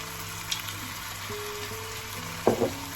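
Chicken pieces stirred with maple syrup in a hot pan, a soft steady sizzle with a couple of brief scraping stirs near the end, close up and without talk.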